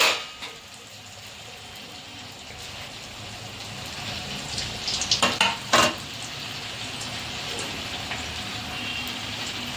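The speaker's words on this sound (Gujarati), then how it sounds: "આપણે બધી ધીમા ગેસે બધી તળી લેશું" Steady hiss of manchurian balls deep frying in oil on low heat, with a few brief louder crackles and pops in the middle; no talking.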